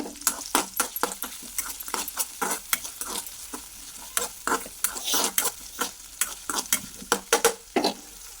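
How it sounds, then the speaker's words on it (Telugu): Green chillies, onion and curry leaves fry in hot oil in a home kitchen, giving a steady close sizzle broken by frequent sharp scraping stirs of a spatula against the pan. No one speaks. "ఆయిల్ వేసాక కొన్ని పచ్చిమిర్చి ఉల్లిపాయ అలాగే కొంచెం కరివేపాకు వేసుకొని"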